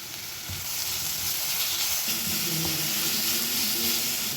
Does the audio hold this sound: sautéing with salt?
yes